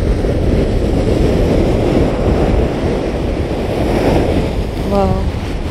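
Storm waves surge and crash along a Mediterranean shoreline under heavy wind buffeting the microphone, a loud continuous roar of surf with no break.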